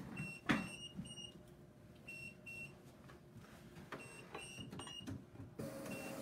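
A sublimation printer runs quietly, with soft mechanical whirring and repeated short electronic beeps and chirps at irregular intervals, faint and close.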